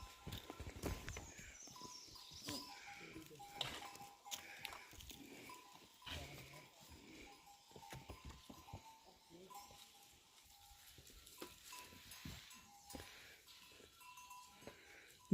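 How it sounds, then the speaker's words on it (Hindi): Sheep graze on a mountainside with small bells on them, giving scattered light tinkling and clinking, soft shuffling and occasional bleats, faint and spread out. "पहाड़ों में भेड़ चर रही है।"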